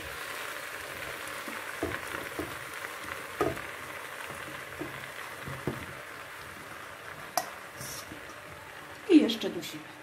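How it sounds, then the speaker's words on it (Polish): Sausage and sliced bacon sizzle in a pan with fried onion, a faint steady frying hiss broken by soft clicks and stirring taps, ending in a louder scrape. "Do podsmażonej cebuli dorzucamy kiełbasę i boczek pokrojony."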